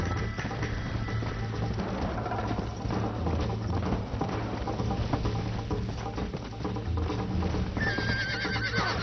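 A horse in Red Dead Redemption neighs and whinnies over rhythmic, galloping hoofbeats, clear and close in steady game sound, with a sharp rising whinny near the end.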